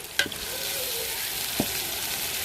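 Squid sizzles and fries in a pan with spices and ground masala, a constant loud hiss throughout with a couple of brief stirring clinks.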